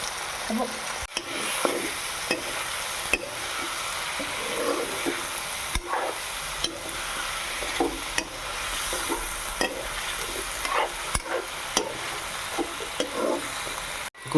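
Broiler chicken and bottle gourd stir-frying in a pan, a steady close sizzle with the scrape and clack of a spatula stirring at irregular intervals throughout.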